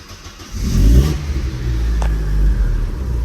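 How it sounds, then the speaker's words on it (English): A 1994 Audi engine revs hard and close, a sharp rising roar followed by a steady rumbling idle-to-mid-rev drone with a rally-car edge. "It actually sounds like a little rally car"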